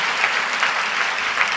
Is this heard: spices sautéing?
no